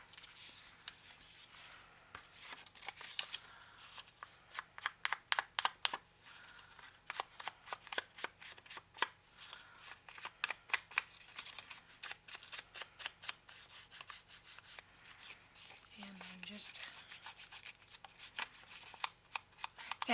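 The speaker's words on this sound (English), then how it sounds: "Fold this piece up." Printed 28-pound paper being folded and creased by hand while assembling a handmade hard cover journal, giving a long run of quiet, sharp crinkles and taps with no talking.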